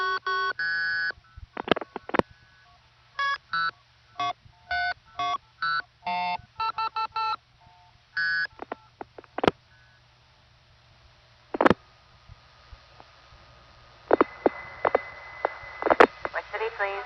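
Telephone dialing tones from a synthesizer go into a 1975 phone line as a series of short, evenly spaced tone bursts in clusters, followed by clicks and line noise, with a faint voice near the end.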